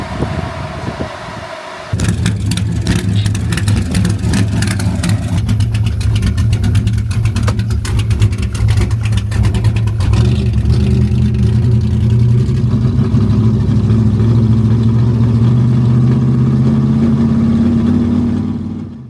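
A car engine fitted with a roller cam, running after an engine failure and upgrade, idles roughly, then revs and accelerates with a lumpy, stuttering breakup, a loud close rumble that holds steady before cutting off.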